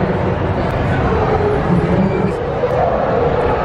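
Husky dogs at the 2018 Novi Pet Expo yip and whimper faintly amid a dense, loud indoor crowd hubbub with people talking nearby.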